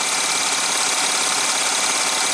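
An Audi Q7 TDI diesel engine idles with a steady, even, close-up clatter and hum, unbroken and with no voices.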